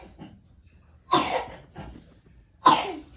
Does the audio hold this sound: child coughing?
yes